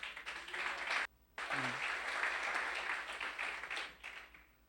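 A church congregation applauds, a steady wash of clapping from many hands in a reverberant hall. The clapping is interrupted by a brief dip near the start, then carries on before fading slightly at the end.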